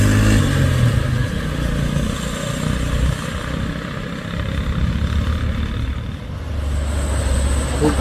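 A Mitsubishi L300 drives past on a road in daytime traffic, its engine a loud, steady drone that dips midway and swells again toward the end.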